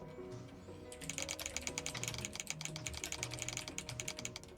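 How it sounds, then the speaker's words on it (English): Rapid, steady keyboard typing with crisp clicking keystrokes, continuous and fairly close, over a low background hum. "Somebody's typing"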